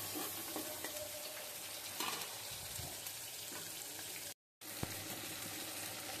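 A spice paste for fish curry fries in a pan with a dense, continuous sizzle and occasional stirring scrapes. The sound is interrupted by a short gap of silence near the end.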